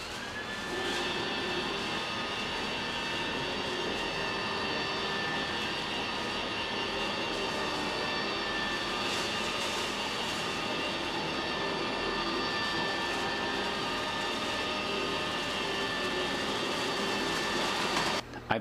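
A Roomba robot vacuum runs steadily, its exhaust blowing into a 13-gallon kitchen trash bag taped over the outlet, making a constant loud whooshing whine with a high tonal hum for about eighteen seconds and no speech.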